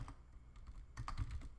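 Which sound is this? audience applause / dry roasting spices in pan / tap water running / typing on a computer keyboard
typing on a computer keyboard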